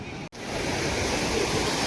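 Sea waves on the Konkan coast roll and wash in a steady, loud surf roar after a brief dropout near the start.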